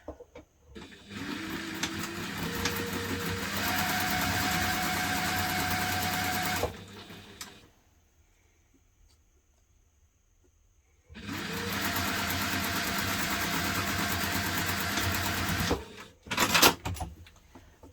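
A sewing machine stitches a hipster bag seam at construction stitch length in two long steady runs separated by a quiet pause, each a close, even mechanical whir.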